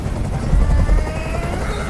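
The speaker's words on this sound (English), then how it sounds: "I can't stand that noise anymore! Tell that helicopter to get out of here!" A helicopter in the video game Detroit: Become Human, a loud, steady low rotor thrum and roar filling the scene with no gaps, heard alone without talking.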